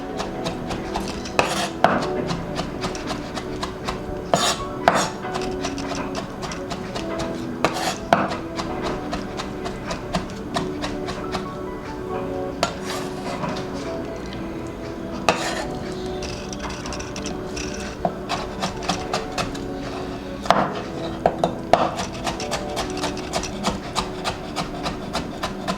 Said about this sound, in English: So I'm going to chop all the jalapeno,